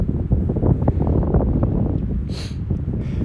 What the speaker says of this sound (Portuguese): está um pouco vento